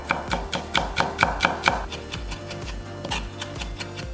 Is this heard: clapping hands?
no